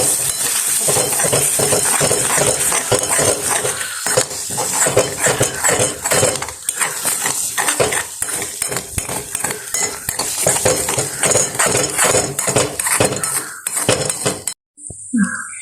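Eggs are mixed with chili powder in a bowl, a fast, steady clatter of a utensil beating and scraping against the bowl that runs continuously before stopping abruptly near the end.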